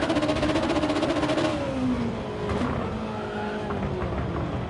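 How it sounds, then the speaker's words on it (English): Car tires scrape and squeal across pavement as the car turns too hard, giving a loud, continuous grinding screech over engine noise. "all you're doing is scraping your tires across the pavement"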